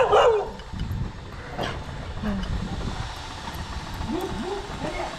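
Street dogs in Goa, India, barking outdoors on a noisy street. A sharp bark comes at the start and scattered barks and yelps follow against background rumble.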